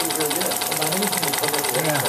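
A small oscillating steam engine built by engineering technology students runs smoothly at a steady, consistent speed, its even rhythmic chuffing continuous throughout under people talking nearby.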